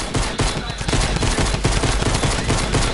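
Rapid automatic gunfire from a drum gun in a PS4 shooter game, a dense, continuous burst of loud shots running the whole stretch with steady rhythmic cracks, mixed with other game noise.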